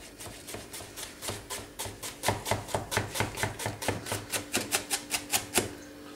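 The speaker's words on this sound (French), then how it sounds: "mes échalotes sont bien ciselées" A knife finely chops shallots rapidly and steadily on a cutting board, a quick run of sharp, evenly spaced taps that grows slightly louder, close up with no talking.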